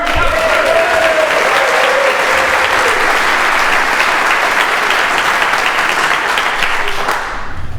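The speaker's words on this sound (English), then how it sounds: "Round of applause for barbershop." Loud, dense crowd applause for barbershop singers at a general session of Harmony College Northwest 2024 rolls on without a break for about seven seconds, then fades away at the end.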